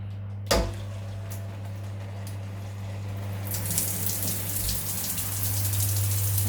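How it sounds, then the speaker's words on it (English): Water from a newly installed shower head starts after a sharp click and then swells into a steady, close rushing spray with a low hum beneath it, growing louder toward the end. "The water's coming out. No dripping this time."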